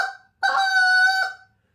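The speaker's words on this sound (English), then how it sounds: "this is the quick spit with a spit note after it." A trumpet plays a quick spit attack followed by a spit note, a brief tongued burst and then one held, bright, brassy tone of about a second, close and loud with no talking.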